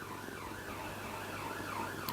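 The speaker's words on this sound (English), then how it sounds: "And the sirens are going." Distant emergency sirens on a main road wail in rising and falling sweeps over a steady low background hum, muffled and faint.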